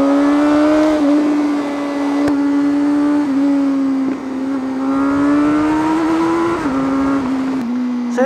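A motorcycle engine, either a CFMOTO Voom 500SR or a Kawasaki ZX-4RR, holds a loud, steady buzzing note with a chambered exhaust tone, pitch rising gradually and dipping with brief throttle changes, close and unbroken for eight seconds.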